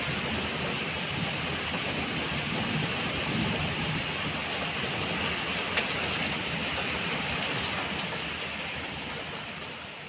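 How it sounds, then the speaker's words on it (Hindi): Heavy rain falling steadily, heard from a balcony, a dense continuous hiss of drops on surfaces with no pauses and no voices. "देखो कितनी बारिश हो रही है इस टाइम पे"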